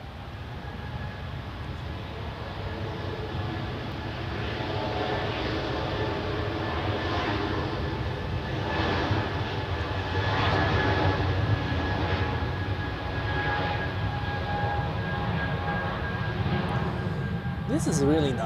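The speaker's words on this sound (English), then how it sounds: "On final we have another EasyJet flight." An EasyJet airliner on final approach at Zurich Airport, a broad, steady engine roar that swells gradually and holds at moderate loudness from a distance, with a faint whine running under it.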